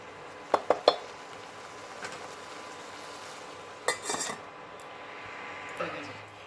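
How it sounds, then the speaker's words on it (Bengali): A lid goes onto a cooking pan: three quick metallic clinks, then a short rattling clatter a few seconds later, all fairly faint over a quiet kitchen background. "সেজন্য আমি এটাকে আবার লিডটাকে ঢাকা দিয়ে দেব"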